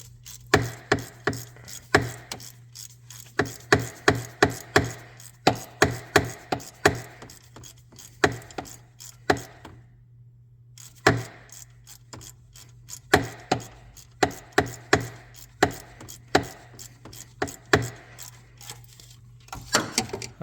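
A 13 mm hand wrench or ratchet tightens a bolt down, making rhythmic bursts of sharp metallic clicks that pause for a moment midway and then resume in steady strokes.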